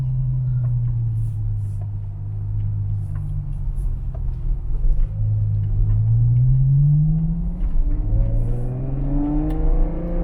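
A Ferrari 812 Superfast engine on the road, a loud, close drone that climbs and falls through several rising revs and gear changes with no talk over it.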